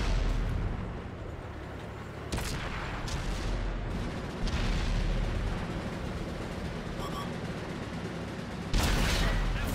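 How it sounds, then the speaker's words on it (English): Tank cannon fire in World of Tanks on Xbox/PS4, a T10 on the Overlord map: low rumbling booms and blasts with a few sharp, loud cracks spread across the stretch, over a constant heavy battle background. "Sneaky fires at the tortoise's cupola, gets a ricochet which goes, hits the enemy artillery"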